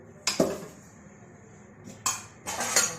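A plate and utensils clink and clatter in a home kitchen while dry fruit laddu is being made, with one sharp knock early on and two brighter bursts of metallic rattling near the end, nearby and fairly soft.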